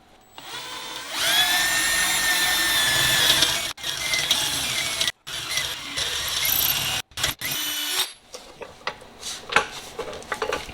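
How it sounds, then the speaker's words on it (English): A power drill whirs up and bores a hole in a Jeep XJ, steadily, then stops and restarts in several short bursts with clattering and scraping between them. "we're going to drill this hole out here."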